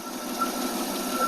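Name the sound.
engine idling after Holley 2-barrel carburetor rebuild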